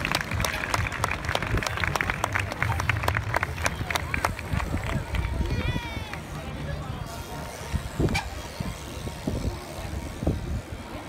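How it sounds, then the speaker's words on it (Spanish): An audience at a BMX stunt show in Zaragoza applauds in a sustained patter of clapping mixed with shouting voices, loudest early and then easing to a lighter wash of claps and crowd noise. "Un aplauso a todos."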